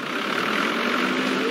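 A tractor engine runs at a steady idle close by, a continuous even rumble with no talk, during a flooded-creek crossing after mudslides.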